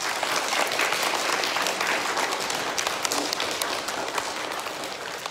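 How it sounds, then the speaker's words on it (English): An audience at a school awards ceremony applauds, steady crowded clapping that holds strong then gradually softens. "Can we give them a round of applause?"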